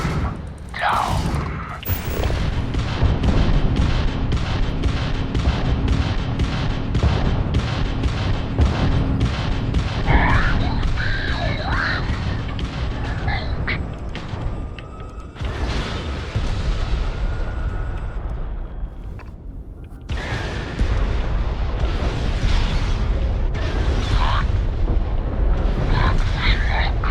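Weapons firing to shoot down enemies in a video game, a long, rapid stream of heavy, booming shots and blasts, loud and near, pausing briefly twice before resuming, with some game voices mixed in.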